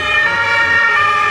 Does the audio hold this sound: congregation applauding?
no